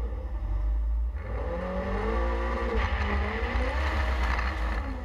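Front-wheel-drive drag race cars idle and rev as they pull into line at a Ultimate Street Car FWD Drag Series round, onboard, with a loud steady engine drone and rising revs throughout.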